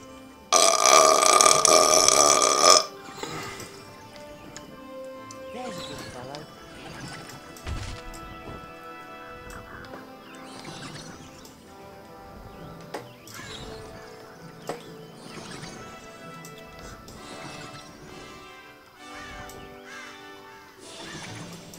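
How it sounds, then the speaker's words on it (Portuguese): Horse sounds in Harry Potter and the Prisoner of Azkaban game: a loud burst opens, then irregular clip-clop thuds and snorts recur over soft churchlike music for the rest of the stretch. "Fica escutando esse barulho de cavalo com essa musiquinha de igreja de crente"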